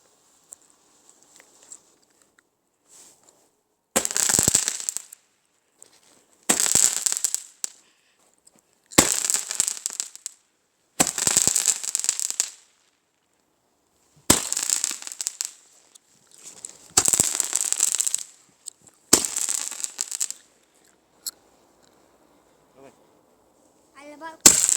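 Fireworks go off in a series of about eight separate bursts of sharp crackling, each lasting a second or two, with near silence between them.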